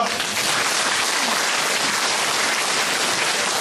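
An audience at a politician's constituency report meeting breaks into loud, dense applause, a continuous wash of many hands clapping close to the microphone, steady from start to finish without voices.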